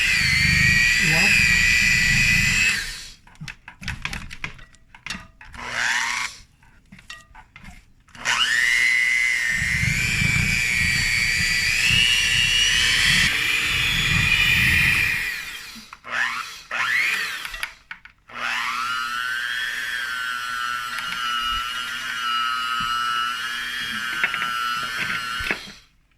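Electric hand mixer beaters creaming lard for pastry dough, a loud steady motor whine in long bursts that stop and restart, with brief gaps between runs and a voice talking in the pauses.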